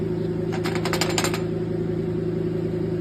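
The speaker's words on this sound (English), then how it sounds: "Sawzall. Pow." A Sawzall reciprocating saw cuts through an aluminum intake in a rapid burst of buzzing strokes lasting about a second, close and loud over a steady engine-like hum that continues after the cut stops.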